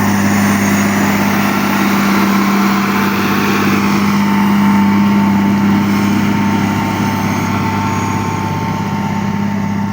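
A tractor engine pulls a six-body Veles Agro plough, giving a steady, loud, continuous drone with a strong low hum that holds evenly for the full ten seconds, with no talk.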